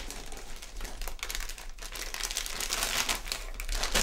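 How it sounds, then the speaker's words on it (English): A plastic Ziploc bag of teriyaki salmon marinade crinkles and rustles steadily at close range, growing slightly louder toward the end, with no talk. "I like to marinate in a Ziploc bag"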